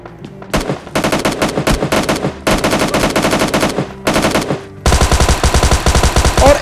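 Loud rapid automatic gunfire in PUBG Mobile Lite, dense bursts of shots rattling almost without pause, ending in an even heavier sustained volley.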